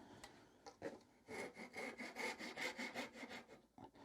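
A hand saw cuts a tenon in wood held high in a vise, giving a quick run of rhythmic rasping push strokes that start with a few tentative scrapes and then settle into a steady back-and-forth, close and clear with no talking.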